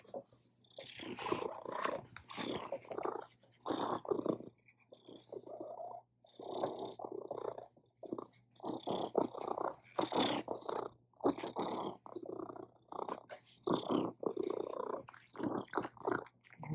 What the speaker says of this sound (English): here's some Giles purrs to really calm down your day